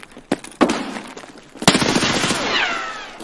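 Gunfire in Escape From Tarkov: a couple of sharp isolated shots, then a louder burst of rapid close shots ringing out over a short stretch.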